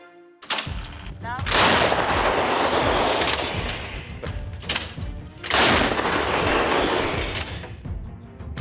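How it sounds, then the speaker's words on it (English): Artillery fire and explosions burst around Russian tanks in combat in Ukraine, several loud booming blasts with rumbling tails following one another over a few seconds. "Ukrainian artillery fire blows up areas on either side of the tank before a suspected direct hit destroys it."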